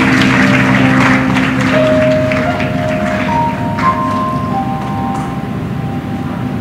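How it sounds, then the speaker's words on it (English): Audience applause at an elementary school graduation ceremony on a Lagos campus, a steady broadband wash of clapping held at an even level throughout, with faint sustained tones beneath. "Let's clap for Mr. Shebanjo."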